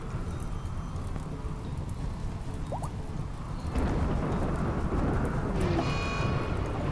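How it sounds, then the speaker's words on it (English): Rain and a thunderstorm from the video game RimWorld: a steady hiss of rainfall with low rumbling, growing slightly louder and fuller midway, continuous and without voices. "We get the rain though."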